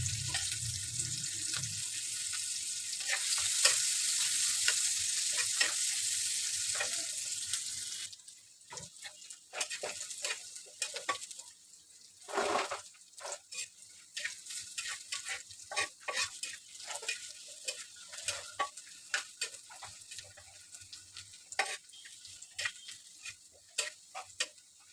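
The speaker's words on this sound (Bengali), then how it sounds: "দিয়ে দিলাম কয়েকটা গোটা মশলা।" Onion, a bay leaf and whole spices frying in hot oil, a loud steady sizzle for the first eight seconds that then drops to quieter crackling and intermittent stirring scrapes in a pan, with no talk.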